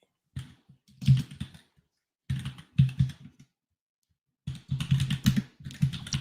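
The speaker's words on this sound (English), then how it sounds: "I feel silly typing these out." Brisk bursts of typing on a computer keyboard, close and clattery, separated by short pauses of silence.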